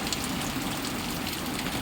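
Steady rain falls in the evening, a dense, even hiss of drops pattering on surfaces that holds at a constant level throughout with no voices.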